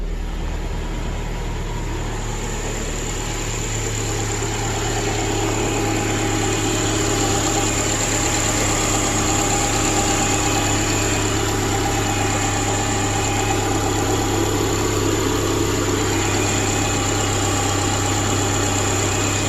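A 2010 Subaru Outback with a replacement engine idles rough, a steady close mechanical drone with a low pulsing hum and faint vibration running unbroken throughout, no voices.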